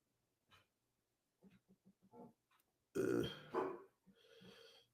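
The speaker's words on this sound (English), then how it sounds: "Can you all hear him barking?" A dog barks a few times in short bursts, somewhat distant and irregular, amid quiet room sound during a podcast.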